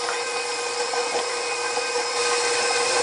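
A KitchenAid Professional 550 Plus stand mixer whirs steadily while stirring bacon, cheese and jalapeno biscuit dough, a close, even motor drone with a faint rise near the end and no talk.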